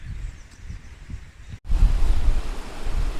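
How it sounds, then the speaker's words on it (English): Small river rapids rushing over rocks, a continuous broadband wash of water close by, briefly interrupted then returning louder, with some wind buffeting on the microphone. "For our next shot, tiny little rapids down here."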